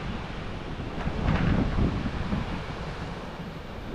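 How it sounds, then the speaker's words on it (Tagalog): Strong wind from Typhoon Carina buffets the microphone over steady crashing surf at the seashore before dawn, swelling briefly louder in the middle before settling back to a constant roar. "Medyo malakas yung hangin"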